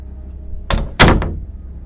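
A house door closes with a sharp wooden thud, followed by a quick second knock and a short rattle, over a low background hum.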